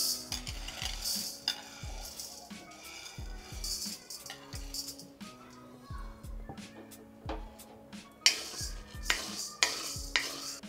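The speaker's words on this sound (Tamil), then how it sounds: "இப்போ நம்ம ஜவ்வரிசி வறுத்துக்கலாம்" Dry sago pearls roast in a pan while being stirred, heard as a rhythmic series of scraping, rattling strokes against the metal with a soft sizzle underneath, fairly quiet and close.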